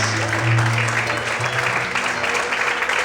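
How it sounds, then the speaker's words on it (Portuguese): A church congregation applauds together during a evening worship service, a steady, dense wash of clapping that fills the whole stretch, with faint sustained low tones from music or voices underneath. "Vamos estar aplaudindo, adora o Senhor essa noite."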